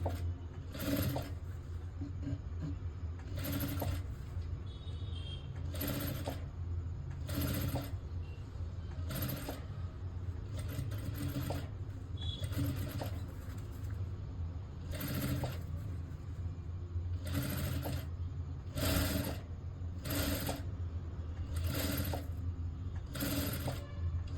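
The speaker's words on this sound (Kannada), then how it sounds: "ಎಷ್ಟು ಆದಷ್ಟು ಎಡ್ಜಿಗೆ ಸ್ಟಿಚ್ ಹಾಕೋದಕ್ಕೆ ಪ್ರಯತ್ನ ಮಾಡಿ" A sewing machine stitches a blouse in repeated short bursts of rapid mechanical whirring, with quiet pauses between runs, close and steady, no voices.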